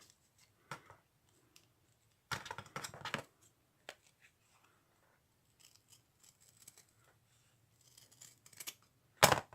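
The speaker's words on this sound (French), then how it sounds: "il vaut mieux avoir quand même une bonne paire de ciseaux pour découper" Several short bursts of scissors snipping through paper, clustered near the start and again at the end, with quiet gaps between.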